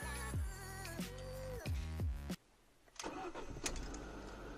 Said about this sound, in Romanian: Să vedem cum pornește la rece.